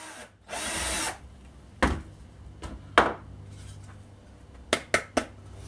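Power drill driving a screw while building a DIY wooden entertainment center, one sustained whirring burst followed by several short, sharp taps and bumps of tool handling on wood, close and loud in a quiet room.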